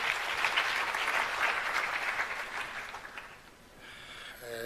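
Steady applause from an audience at a launch ceremony for 4IR centres of excellence, dense clapping that fades slightly toward the end.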